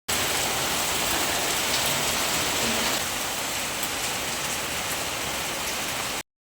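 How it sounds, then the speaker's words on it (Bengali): Heavy rain pours steadily during a Kalbaishakhi evening storm, a dense, unbroken hiss that holds at an even level for about six seconds before cutting off abruptly. "যা জোরে ঝড় আর বৃষ্টি শুরু হয়েছিল"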